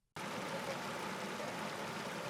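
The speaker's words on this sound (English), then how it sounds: "this picturesque maze of waterfalls known as Isyuhu Falls" Waterfalls at Isyuhu Falls in Kenya's Kakamega forest pour in a steady, dense rush of water that starts abruptly and holds at an even loudness throughout, with no voices.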